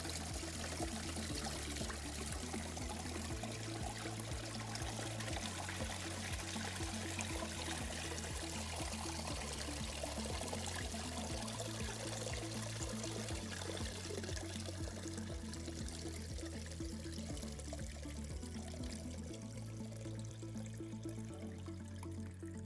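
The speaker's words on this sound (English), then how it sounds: "We're going to shut the machine off. We're going to drain the water out." Water pours and drains steadily from an Electro Freeze CS-700 frozen dessert machine, a continuous gushing flow over a low mechanical hum that cycles in a repeating pattern.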